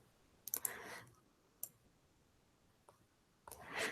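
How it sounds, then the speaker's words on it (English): A classroom board being erased during an algebra lesson, heard as bursts of dry scrubbing and light tapping, one sustained wipe near the start and another rising at the end, with faint clicks between. "I'll have to erase a little bit here."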